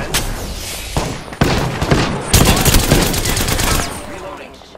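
Gunfire in the Apex Legends video game, loud rapid bursts of automatic shots in quick succession, stopping and restarting over a few seconds, with brief in-game voice callouts.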